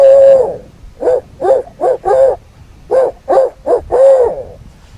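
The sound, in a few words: owl hoot imitated with natural voice to locate turkeys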